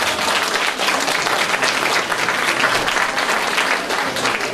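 Sustained, dense applause from an audience at a Great Orchestra of Christmas Charity finale in the Kałuszyn culture house in 2019, greeting the third-place winner. The clapping is steady and full from start to end, with no talking over it.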